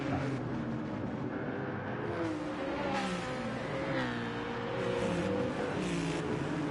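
GT3 race cars battle closely in a racing video game, several engines revving and shifting in overlapping whines that rise and fall as cars trade places, steady and fairly loud without commentary.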